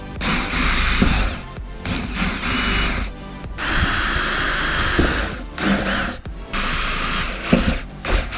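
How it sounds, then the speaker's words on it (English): A power drill whines in several loud bursts of a few seconds each, with short pauses between, close by and bright-toned, drilling into the trunk of a BMW E46 M3. "Make sure where I drill, it's not going to drill into wires or anything that's important."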